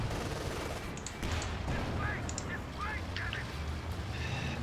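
Artillery shelling and gunfire rumble through a Company of Heroes 2 battle, a dense continuous wash of shots and low booms with scattered sharper cracks, heard amid the fray without a clear break.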